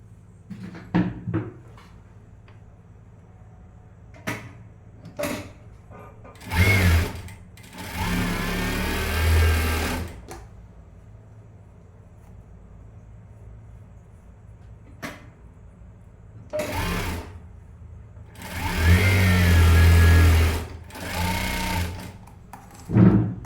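A sewing machine stitching a blouse seam runs in two sustained bursts of whirring, each a few seconds long, set between sharp knocks and clicks of handling the machine and fabric, close and fairly loud, with no speech.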